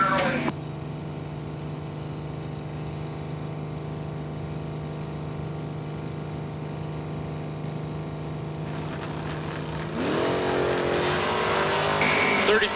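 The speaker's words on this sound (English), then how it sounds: "Going to get the head start over Terry Benton in his 78 Camaro, 620 for Benton." Drag racing cars at Numidia Dragway, among them a 1978 Camaro, hold a steady engine roar that swells into a louder, harsher launch near the end, with a crowd and announcer faintly underneath.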